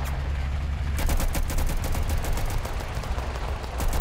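Rapid volleys of gunfire from the war game Total Conflict: Resistance crackle steadily over a low battlefield rumble, with shots tightly packed for several seconds and no voices.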